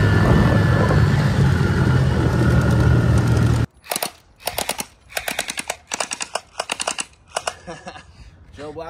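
Gel Blaster Surge gel blasters fire in rapid bursts of sharp snapping pops, clustered volleys with short gaps, close and loud, after a steady rumble of riding noise cuts off.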